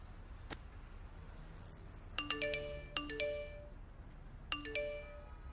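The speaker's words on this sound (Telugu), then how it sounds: "ఏంటి ఇన్ని మెసేజ్లు వస్తున్నాయి?" Several phone message notification tones chime one after another on a newly switched-on phone, bright pinging bursts in three clusters of two to three chimes each, preceded by a single faint ping, clear against a quiet background.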